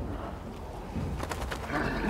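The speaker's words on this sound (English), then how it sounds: "we trigger these birds to fly away" Birds suddenly flapping up and flying off inside the horror game Little Nightmares II, a short burst of fluttering wingbeats over a low, rumbling game ambience.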